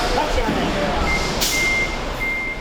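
A loaded relief truck carrying instant rice pulls up and backs in, its engine rumbling under steady, evenly spaced reversing beeps and a brief hiss of air brakes, with people talking faintly nearby.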